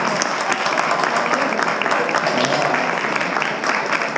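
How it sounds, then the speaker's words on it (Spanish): Concert audience applauds a guest drummer at the Chocogesell 2022 show: loud, steady clapping from a large crowd throughout, with some voices mixed in. "para el que pido un gran aplauso"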